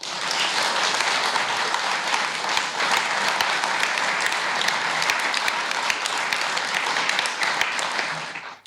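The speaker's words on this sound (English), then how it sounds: "I think it deserves a round of applause" An audience at the COPE Galway 60th anniversary event gives a sustained round of applause, dense even clapping filling the room for several seconds before tapering off at the end.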